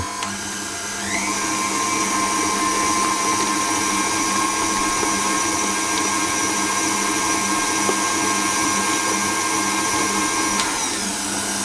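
Electric mixer whisking butter and sugar at medium speed for salted chocolate brownie cookies, starting with a rising whir after a brief pause, then running as a loud, steady motor whine close by, cutting off near the end.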